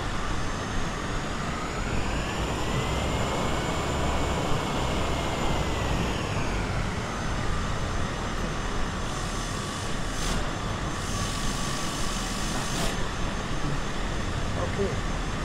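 A propeller aircraft engine running in forward thrust in Microsoft Flight Simulator 2020, a steady loud droning hum with a slowly gliding pitch, with a voice talking over it.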